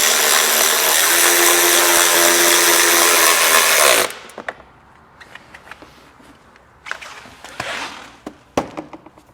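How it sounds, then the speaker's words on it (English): A right angle power driver spins out the lower corner screws of a Vespa scooter's front panel during a LED running light and turn signal install, whirring steadily and loud for about four seconds, then followed by faint scattered clicks and handling noises. "This is where the right angle driver comes in handy, these lower corner screws."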